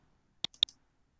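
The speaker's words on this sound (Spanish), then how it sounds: "Entonces le damos clic a la letra A." Two sharp computer mouse clicks while working in AutoCAD, quick and close, separated by a short gap, in an otherwise quiet room.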